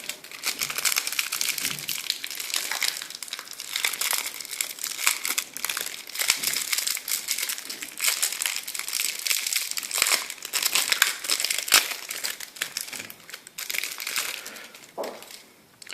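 Foil trading cards from a 2013 Yu-Gi-Oh Blaster, Dragon Ruler of Infernos tin being handled up close, giving a steady, loud crinkling and crushing rustle that runs unbroken with no voices.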